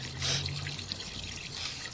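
Water trickles through a pipe line in a faint, brief, soft dribble heard alone, with no talking.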